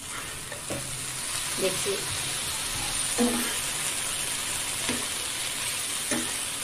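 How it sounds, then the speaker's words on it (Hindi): Potatoes cook in butter in a pan with a steady, close sizzle and crackle, while someone speaks briefly in short bursts over it. "इसमें भी बटर ही डाली हूँ, और बटर से ही तैयार करना है, और ढक करके पकाएंगे।"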